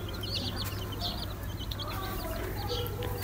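Baby chicks on a farm chirping in quick, high, overlapping peeps over a constant low background hum, with soft clucking mixed in throughout.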